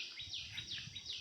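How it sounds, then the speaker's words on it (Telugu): Birds call outdoors in a quick series of repeated high chirps over soft background noise, faint and somewhat distant. "మీకైతే వెనక పక్షులు కూడా అరుస్తున్నట్టు వినిపిస్తూ ఉంది కదా"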